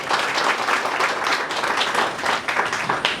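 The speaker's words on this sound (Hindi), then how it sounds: "इन दोनों के लिए तालियां बजाइए जरा।" An audience claps for two people at a pilot training school inauguration, a dense, steady burst of applause from a crowd that fills the room without letting up.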